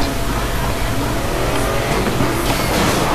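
A Land Rover driven in Need for Speed Most Wanted gives a loud, steady engine drone with road and tire noise throughout, with no pauses.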